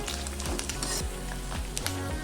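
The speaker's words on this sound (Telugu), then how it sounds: "గుడ్డు వేగాక ఇందులోకి చికెన్ ముక్కలు వేసుకోవాలి. 1 నిమిషం పాటు వేపుకోవాలి." Chicken pieces fry with cooked egg in a hot pan for chicken fried rice, a dense, constant sizzle with crackling spatters and a few soft scraping stirs.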